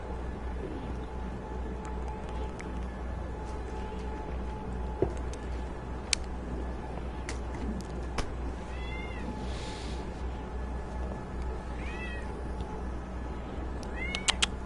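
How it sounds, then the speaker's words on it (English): A cat meows several times in quick short calls, rising and falling, near the end over a steady low background hum, with a few faint clicks earlier. "Come here, cat."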